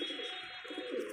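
Desi high-flying pigeons, a mother and daughter pair, murmur in low, soft coos, a short run of quiet notes over a steady background hum.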